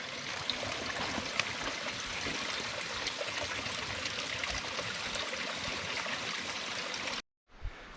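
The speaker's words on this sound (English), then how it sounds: "I love water crossing the trail" A small stream crossing a hiking trail on the Middle Fork of the Snoqualmie River rushes and trickles in a steady, fairly loud wash with no voices, cutting off abruptly near the end.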